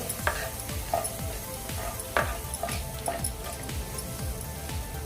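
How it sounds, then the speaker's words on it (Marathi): Whole spices, a bay leaf, four green cardamoms, one black cardamom and a cinnamon piece, are sautéed in oil for restaurant-style chana masala, with a steady close sizzle and repeated scraping stirs of a spoon in the pan. "आता यामध्ये आपण खडे मसाले घालून घेऊया तेजपत्ता चार वेलची एक मसाल्याची वेलची आणि एक दालचिनीचा तुकडा आता फक्त आपण एक दोन मिनटं हे परतून घेऊया"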